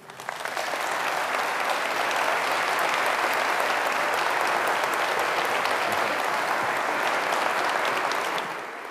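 An audience applauds steadily as a speaker is welcomed onto the stage at a military presentation. The clapping is dense and sustained at an even level, then fades slightly at the end.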